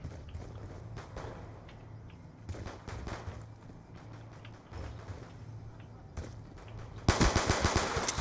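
Automatic gunfire from Call of Duty Black Ops II multiplayer: a loud, rapid burst of dense shots erupts near the end, after quieter game ambience with faint intermittent shots earlier.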